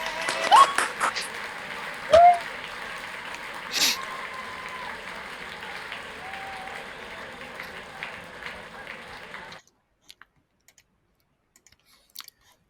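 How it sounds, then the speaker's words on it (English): During a virtual graduation ceremony, scattered applause and clapping come through unmuted microphones on a video call, thin and uneven with a few sharper claps and faint tones, fading out to near silence. "If everyone could unmute your microphones in a round of applause"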